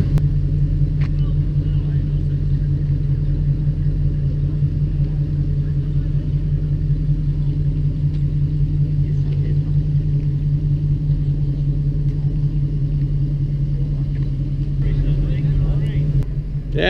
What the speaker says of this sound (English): It's Carl's car